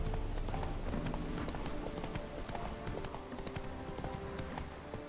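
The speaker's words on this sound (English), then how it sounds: "Because the horse creates a distraction, allows me to move faster." Horse hooves clip-clop rapidly in The Witcher 3 as the mount gallops through Velen, a steady rhythmic patter of game hoofbeats under faint ambient noise.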